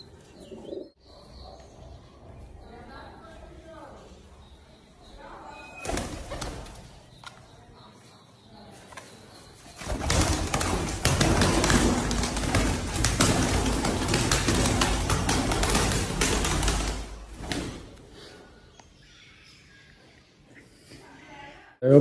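Pigeons cooing indoors in a room, a male pigeon among them, with soft coos and chirps that build into a dense, louder stretch of calls and wing fluttering midway before settling again.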